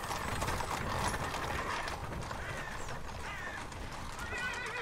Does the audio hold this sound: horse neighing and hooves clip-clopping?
yes